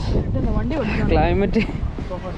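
Strong coastal wind near Durdle Door beach buffets the microphone in a constant low roar while a person talks over it outdoors.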